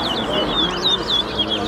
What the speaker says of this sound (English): Put these birds on a pole and see who can sing more than the other.